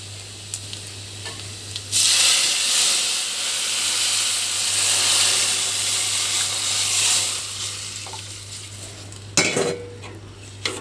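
Masoor dal hits hot oil tempered with panch phoron, setting off a loud, sustained sizzle that lasts several seconds and then settles, with a low steady hum beneath and a few utensil clinks afterward.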